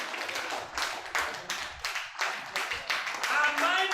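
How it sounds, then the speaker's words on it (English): An audience at an entrepreneurs' business event breaks into scattered clapping that comes in uneven bursts, mixed with chatter and voices around the room. "please clap for yourself as the whole room"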